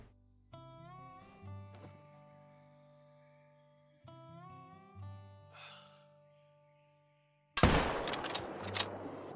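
In the hunting game Call of the Wild, a rifle is fired at a crocodile: soft tonal sounds come first, then one sudden loud blast near the end with a noisy rumbling tail.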